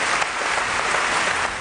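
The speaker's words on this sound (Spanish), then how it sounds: "Un aplauso muy fuerte para él." Loud, steady applause from a TV studio audience welcoming a football guest on a Spanish sports talk show, a dense wall of clapping that runs unbroken from start to finish.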